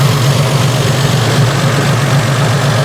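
A close, loud engine idles smoothly on balanced carburetors, a steady low throbbing rumble with even vibration and no change in pace.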